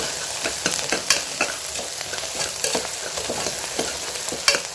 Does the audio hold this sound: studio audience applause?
no